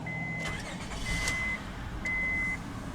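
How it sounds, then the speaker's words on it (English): A 2001 Honda Odyssey EX minivan with 155,000 miles starts up: brief cranking bursts near the start and middle, joined by a steady electronic warning chime that pauses and returns, heard close with no talking. "And now that we're behind the wheel, let's go ahead and start the engine."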